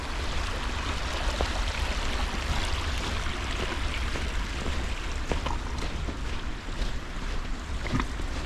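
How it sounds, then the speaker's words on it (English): Steady broadband rush of Baird Creek flowing through a snowy winter woodland, continuous and fairly loud with wind-like hiss and no voices. "get to see the stream really nice here"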